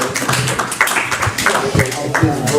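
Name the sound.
audience applause for Steve Stone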